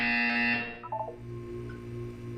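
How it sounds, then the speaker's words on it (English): A harsh electronic buzzer in the video game Portal 2 sounds for about half a second, followed by a few short blips over a steady synthetic hum. "You will hear a buzzer. When you hear the buzzer, look up at the ceiling."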